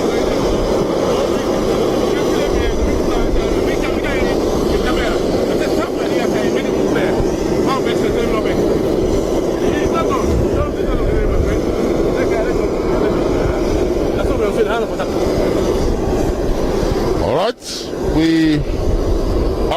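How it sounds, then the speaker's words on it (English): A passenger airplane taxiing for take-off at Lungi International Airport, carrying the Sierra Leone football team, gives a continuous loud roar of jet engines that holds steady and then briefly cuts out near the end. "and then the plane will taxi"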